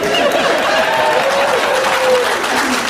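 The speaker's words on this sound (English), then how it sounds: "We applaud the 6th grade teacher." Audience members at a live stand-up comedy show applaud loudly and steadily, a thick crowd clapping with faint cheering or voices mixed in throughout.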